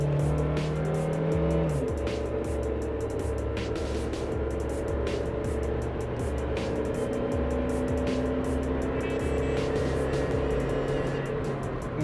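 A Suzuki Jimny with a ladder-frame chassis driving through road curves, heard from inside as a steady engine drone with road and tire roar and a gear change early on.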